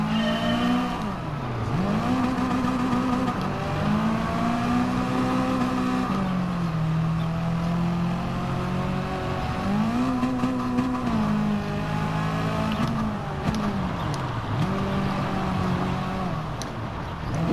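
A race car engine in the video game Gran Turismo Sport drones loudly and continuously, rising and dipping in pitch through repeated revs and gear changes, with faint tire squeal and no talk.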